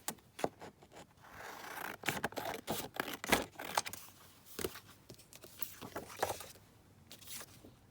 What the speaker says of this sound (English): let's just cut this in half